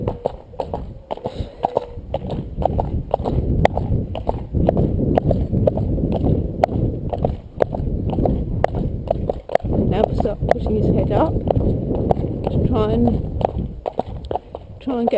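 An eight-year-old horse prancing along a roadside as it is ridden, hooves clip-clopping in a steady, fairly close rhythm throughout, with a person talking over the steps.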